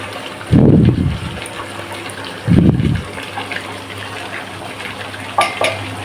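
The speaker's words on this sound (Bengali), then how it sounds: "এখন এই মশলা সঙ্গে রসুন আলু ভালোভাবে কষিয়ে তারপরে ফিরে আসছি আবার" Spice paste with garlic and potatoes frying in a pan, with two loud bursts of stirring and scraping over a steady low sizzle and a few light clinks later; no one speaks.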